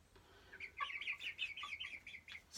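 Old hens in a coop cluck in a quick, uneven run of short calls, fairly close but quiet, over a faint low hum.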